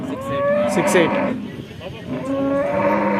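Cows at a Sunday cattle market in Chintamani, several long, close moos, one after another with a short pause between, over a busy background of crowd murmur.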